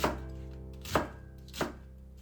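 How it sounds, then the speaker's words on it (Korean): A kitchen knife slices washed cabbage into 1 cm strips for sauerkraut, with three distinct crunchy chops on a board spaced evenly apart, close and clear with no talking. "씻어놓은 양배추를 1cm 너비로 썹니다"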